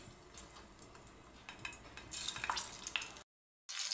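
Whole capsicum peppers for a stuffed village-style dish are laid into two ladles of hot oil in a kadhai. A steady sizzle swells louder halfway through, then cuts to brief silence before resuming.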